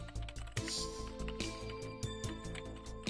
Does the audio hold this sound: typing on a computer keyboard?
yes